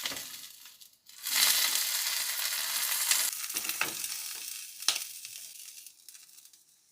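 An over-easy egg frying in a pan gives a loud, close sizzle that rises after a brief pause and then fades, broken by clinks and scraping near the end, with no talking.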